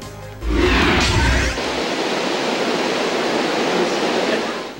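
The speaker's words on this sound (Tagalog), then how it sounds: "Ganito kalakas ang tubig na rumaragasa sa ilog mula sa bundok sa bahaging ito ng Baguio City." A swollen mountain river rushes with a loud, roaring wash during heavy rain in Baguio City, a dense steady torrent heard up close, with a brief thump and surge near the start.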